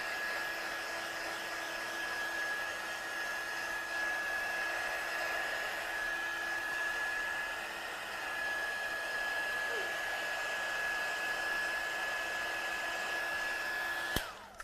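Hair dryer blowing steadily on a handmade watercolour card, a constant close whooshing hum with a thin tonal whine that runs unbroken for about fourteen seconds before clicking off at the end.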